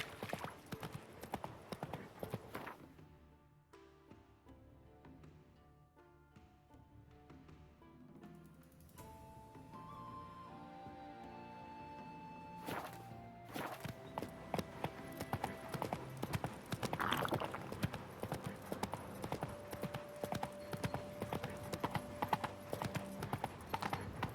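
A horse's hooves clip-clop at a walking pace in The Witcher 3: Wild Hunt, faint and rhythmic, amid soft ambient game music and occasional tonal chimes.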